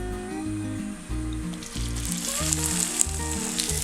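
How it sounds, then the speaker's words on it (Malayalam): Salted okra fries in hot coconut oil with a loud, continuous sizzle and crackle that stays close and steady. Soft background music plays underneath. "എണ്ണ ചൂടായി കഴിയുമ്പോൾ നമ്മൾ ഉപ്പ് പരട്ടി വെച്ചിരിക്കുന്ന വെണ്ടയ്ക്ക ഇതിലേക്ക് ഇട്ട് കൊടുക്കാം"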